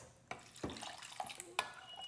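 About half a cup of water is poured into a pan of spice masala for beef kofta curry. It makes a faint splashing trickle with a few soft clinks of utensils, heard close and alone.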